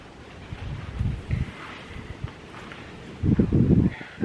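Wind gusts outdoors in short low bursts against the microphone, with quieter gaps between and a stronger gust near the end.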